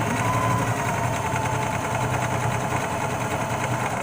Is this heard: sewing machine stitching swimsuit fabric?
yes